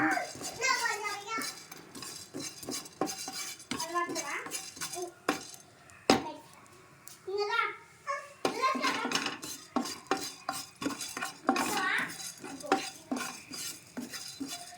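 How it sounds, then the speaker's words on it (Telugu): Coriander seeds are dry-roasted in a pan for tomato chutney: a busy run of clinks and scrapes as a spoon stirs the rattling seeds, close by, with people talking over and between the stirring. "ధనియాలు కూడా లైట్గా వేయించుకుంటా"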